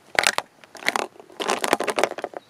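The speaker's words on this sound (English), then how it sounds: "you can hear it rattling" An object rattles and clatters down through the inside of a plumbing-parts geocache puzzle in several irregular bursts of scraping and knocking, close by and moderately loud.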